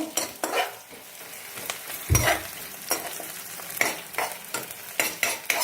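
Small fish frying in a pan for a Bengali fish curry, a steady close sizzle broken by repeated scraping strokes of a spatula.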